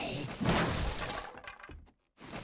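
A door smashed open in 7 Days To Die: a loud crashing, splintering impact with a heavy thud, fading into a few quieter knocks and a brief silence, with a voice faintly present.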